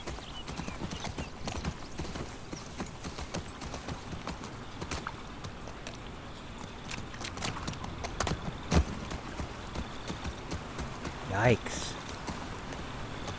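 Horse hooves clip-clop in a steady walking rhythm in The Last of Us Part 2, set in Seattle, continuous and fairly close, with a few louder knocks and a brief whinny-like cry, while a person talks over it at times.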